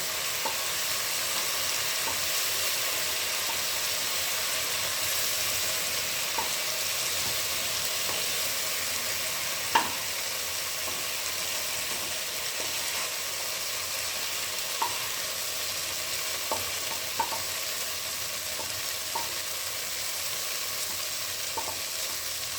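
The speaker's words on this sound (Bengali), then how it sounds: "আমার চিংড়ি মাছ ভাজা হয়ে গেছে, এবার আমি তুলে নিচ্ছি।" Prawns frying in a pan, a steady dense sizzle throughout with faint occasional clicks and taps from stirring, close and even, with no talking.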